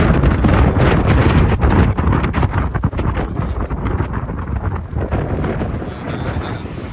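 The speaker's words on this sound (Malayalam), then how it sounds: "നമ്മുടെ കൊടൈക്കനാൽ മലനിരകൾ, ഭയങ്കര കാറ്റ്" Strong gusting wind on the Kodaikanal hills near rows of wind turbines buffets the microphone with heavy, roaring rumble that eases slightly toward the end.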